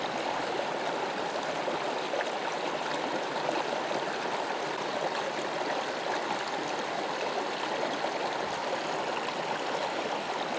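A desert creek in the Grand Canyon flows steadily, a continuous close rushing and trickling of water with no voices, even in level throughout.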